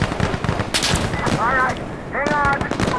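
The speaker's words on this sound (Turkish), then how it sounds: "Mermiler havalarda uçuşuyor." Gunfire and whizzing bullets in the tactical shooter Insurgency: Sandstorm, a rapid crackle of shots with sharp bursts and whistling flybys, loud and near, with a voice talking over parts of it.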